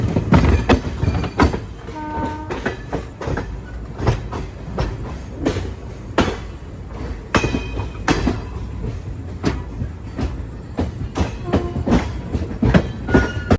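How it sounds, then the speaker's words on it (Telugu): Visakhapatnam–Machilipatnam Express passenger train hauled by a WAP-4 electric locomotive, running at cruising speed, with loud rhythmic clickety-clack of wheels over rail joints and a steady rumbling roar throughout, heard from inside the coach. "ప్రస్తుతం మన ట్రైన్ క్రూజింగ్ స్పీడ్ అయితే ఇది"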